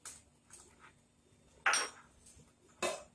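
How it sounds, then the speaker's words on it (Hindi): A spoon clinks and scrapes against a pot while vermicelli kheer is mixed, giving a few sharp metallic knocks separated by quiet stirring, close and clear with no talk. "और इसको अच्छे से मिक्स कर लेंगे"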